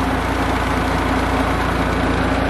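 A tractor engine drives two tubewell pumps and a fan through a shaft and pulleys on a Punjab farm, giving a steady, loud, close mechanical drone with a constant low hum and no pauses.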